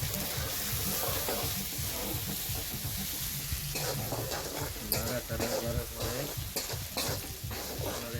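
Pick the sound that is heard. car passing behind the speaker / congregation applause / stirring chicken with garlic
stirring chicken with garlic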